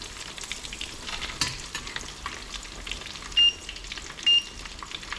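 White sauce starting in a pan on a gas hob, a faint steady sizzle and bubbling hiss with soft stirring scrapes and two short high beeps.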